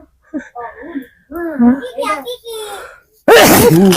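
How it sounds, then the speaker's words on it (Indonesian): A single loud, close sneeze bursts out at the very end of a scene in a Sundanese comedy film, following a stretch of high-pitched, childlike chatter. "bersin teh lain ditutupan kieu"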